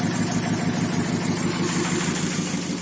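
A Fiat Panda petrol engine with one cylinder dead idles roughly and unevenly, a close, loud, shaking drone with an irregular pulsing beat.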